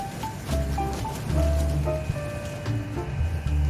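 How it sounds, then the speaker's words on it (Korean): Strong, cold wind blows steadily outdoors at a tangerine orchard that is being mowed, a dense rushing noise with gusts swelling around the middle and no voices. "지금 밖에는 굉장히 바람이 세요."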